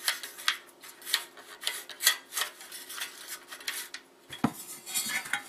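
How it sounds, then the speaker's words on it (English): Hand-winding the starter rope pulley on a lawnmower gives a run of faint, close scraping and metallic clicks in an uneven rhythm, ending with one sharper knock. "what we're going to do is we're going to wind it"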